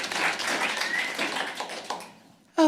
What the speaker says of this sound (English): giving Al Castleman a big round of applause